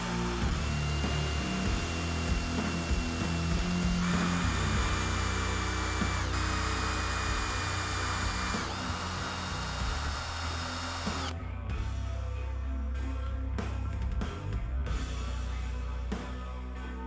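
A power drill bores screw holes into a flat electric guitar headstock, its steady motor whine running continuously and close, with a shift in pitch partway through as the bit works the wood.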